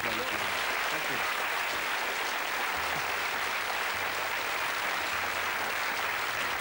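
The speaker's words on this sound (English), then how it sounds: "I'd like to give Joe a really big round of applause" A theater audience at a magic show gives a volunteer named Joe sustained applause, a continuous rushing wash of clapping at moderate loudness, with some faint talk mixed in.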